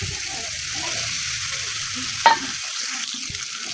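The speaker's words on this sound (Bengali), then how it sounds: "হালকা একটু রসুন বাটাকে ভেজে নেবো যাতে কাঁচা গন্ধটা চলে যায়" Garlic paste and spices fry in oil in a pan, making a steady, soft sizzle with a faint stir and one brief clink partway through.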